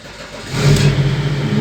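A BMW E39's engine turns over and catches, rising into a steady, close running rumble after a brief quiet start.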